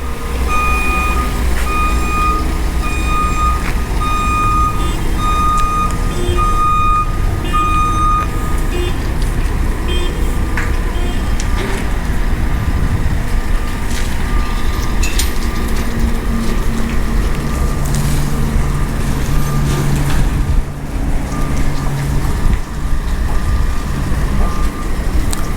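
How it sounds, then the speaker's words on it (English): Truck at a fill dirt pickup area, heavy engine drone with a loud, steady low rumble, tonal whines and repeated beeping from machinery nearby, continuous throughout. "Man, this truck here been doing some work."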